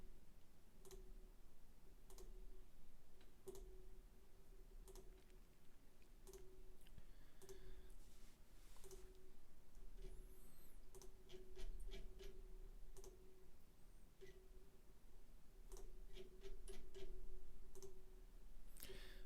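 Mouse clicks while clicking through Ethereum Nimbus validator node setup screens, sounding as sparse, crisp single ticks at irregular intervals over a quiet hum, with a few quicker clusters later on.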